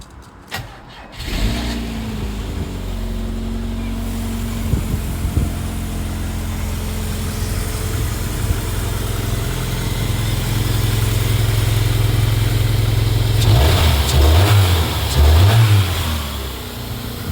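A car engine cranks and fires on broken jump leads, then settles into a steady idle with occasional revs. The sound is loud and close, with no talking.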